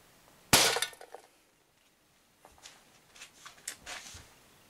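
A single sharp, loud crack as a shot from an Umarex HDS68 strikes a can and shatters, followed by a quiet pause and then a scatter of lighter clinks and rattles.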